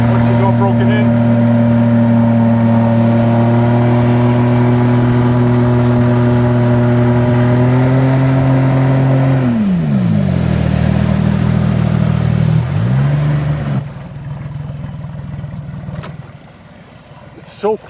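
A Solar 470 Super Jet boat engine runs at full throttle, a loud, steady droning whine with strong harmonics that holds for several seconds, then drops sharply in pitch as power comes off, settling to a quieter idle with water noise.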